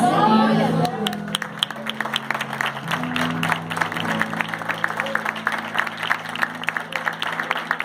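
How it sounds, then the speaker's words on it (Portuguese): A church congregation claps during a service, a steady patter of many hands that follows a brief voice at the start, with sustained vocal tones under the clapping. "Aplaude mais forte, irmão"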